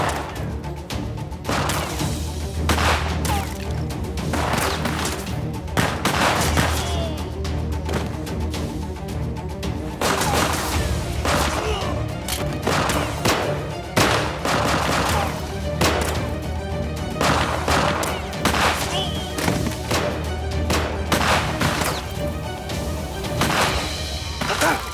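A shootout in a Turkish Ottoman-era historical TV drama, with repeated sharp gunshots and crashing impacts scattered irregularly over a long stretch, some close and loud, with occasional shouted voices in between.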